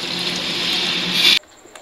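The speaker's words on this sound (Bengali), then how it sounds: "পরিমাণ মতো পানি দিয়ে দিলাম।" Water pours into a cooking pot of chicken curry with potatoes, a steady rushing splash close by that cuts off sharply after about a second and a half.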